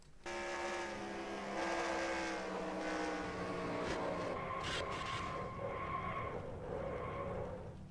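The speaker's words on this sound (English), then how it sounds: "So let's go on board TJ Hanley in the 30, as he gets some pretty heavy contact there" Stock car engines roar continuously in a NASCAR race in the NR2003 simulator game, heard on board a car during heavy contact at the Golden Corral 500, loud and sustained with shifting engine tones and no talk.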